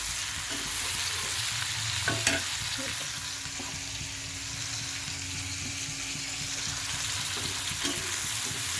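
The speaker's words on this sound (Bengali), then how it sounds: "এখন ভালো করে পেঁয়াজ গুলো সুন্দর করে ভেজে নেবে" Onions fry in oil with a steady sizzle while a utensil stirs them in the pan, scraping in occasional clicks; a home cooking setting with beans and salt in the pan, no talking.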